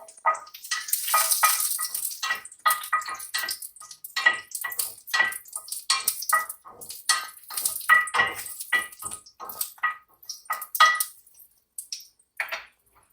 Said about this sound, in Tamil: ஆயில் விட்டு எண்ணெய் சூடானதும் தட்டி வச்சிருக்கிற பூண்டு கருவேப்பிலையை போட்டு